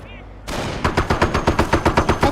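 Rifle gunfire in the World War II strategy game Company of Heroes, a rapid steady burst of about a dozen sharp close shots in quick rhythm, with a brief high tone just before.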